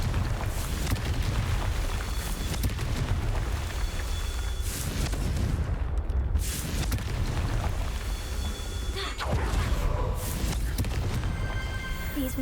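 Confringo fire spell blasts from Hogwarts Legacy: a dense, loud, roaring wall of fiery explosions and crackling that holds steady throughout, with sharper bursts flaring partway through.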